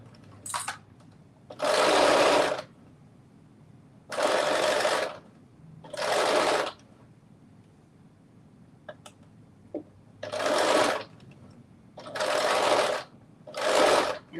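A sewing machine stitching fabric in six steady bursts of a second or so each, separated by quiet pauses, close and clear with no talking.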